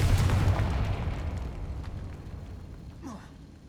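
A Confringo blasting spell in Hogwarts Legacy lands with a loud booming explosion that decays into a rumbling tail, followed by faint scattered effects.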